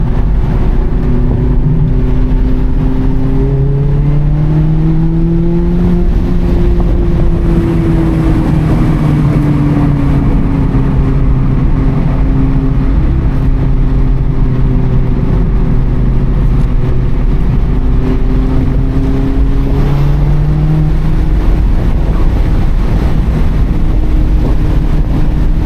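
Mazda MX-5 ND2 Miata engine droning steadily from inside the car, pitch rising and falling through gear changes as it accelerates with traction control off, loud and continuous throughout.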